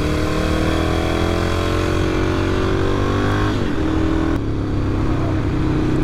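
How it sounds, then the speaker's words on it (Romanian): A Ducati Monster 1100 evo motorcycle engine runs loud and close while riding, holding a steady drone, then the pitch sweeps downward as the rider eases off around the midpoint before settling into a lower, continuous rumble. "Ce bine să pleacă motocicleta ta."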